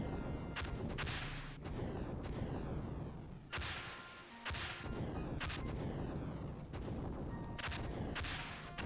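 Missiles firing in a Mega Drive video game come as repeated loud, harsh bursts of noisy blasts and crackling booms, separated by short gaps.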